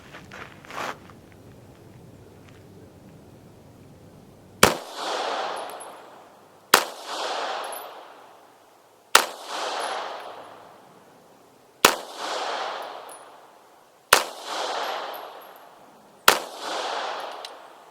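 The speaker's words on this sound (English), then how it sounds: "now I'm going to try some of my cast bullets" A Taurus PT709 Slim pistol, recently modified and loaded with cast bullets, fires six loud, sharp shots at roughly two-second intervals outdoors. Each crack rings out with a brief echoing tail and there is no talking.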